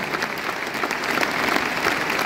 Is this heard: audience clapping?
yes